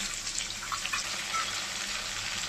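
Chili, ginger and spice-rinse water sizzling in a pan while cooking a vegetarian soybean curry, a dense, loud, continuous hiss with faint bubbling and no voices.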